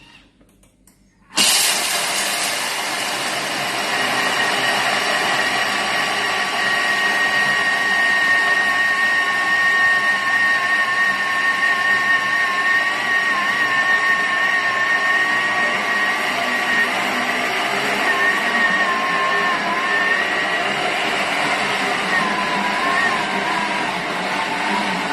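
A blender running at speed 9 while grinding peanuts into peanut butter, a steady loud whir that starts abruptly and holds continuously, its pitch wavering and straining as the thick mixture loads the motor.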